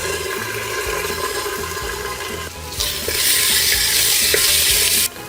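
Garlic and tomato paste fry in a pot with a steady, loud sizzle and stirring scrapes, swelling into a brighter, hissing burst partway through before cutting back down; no one speaks.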